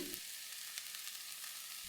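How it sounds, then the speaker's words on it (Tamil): Masala paste sautéing in oil for Indian street-style egg rice, giving a steady, close, even sizzle and crackle that runs alone throughout without any talk. "சேர்த்திட்டு ஒரு 2 நிமிஷம் நல்லா பச்சை வாசம் போகிற வரை வணக்கி விட்டுருங்க"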